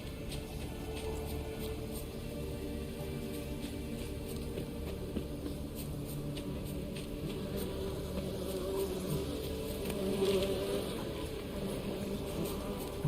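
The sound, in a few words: buzzing bees in the video game Witcher 3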